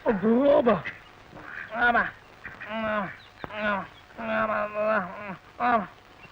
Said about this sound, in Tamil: அது வாத்துங்க.